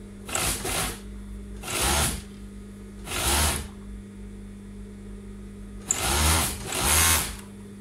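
A sewing machine stitches the side seam of a dress in five short bursts of rapid mechanical whirring, each about half a second to a second long, separated by pauses with a low steady hum beneath, close and moderately loud.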